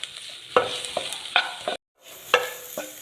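Chilli powder and turmeric being stirred and sautéed in a pan for tender jackfruit kurma, several sharp spoon scrapes over a steady soft sizzle, with a brief silent gap midway.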